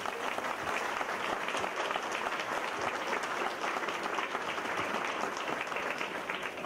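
A crowd at a rural transport celebration day gives steady, continuous applause, many hands clapping together at a fairly distant, even level without pause.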